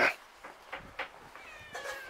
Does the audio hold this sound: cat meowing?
yes